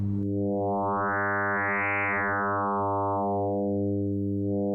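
A buzzy 100 Hz tone from a Pure Data FM synthesis patch sweeps brighter as the modulation index rises, peaks, then darkens again, a smooth continuous timbral swell with slight wobble, steady in loudness.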